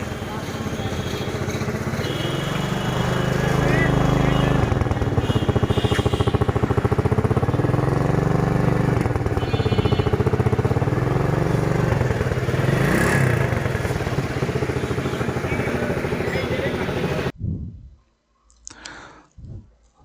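A motorcycle engine idles and revs loudly nearby at a bike repair shop for a long stretch, then suddenly cuts off, leaving near silence with a few faint clicks and knocks.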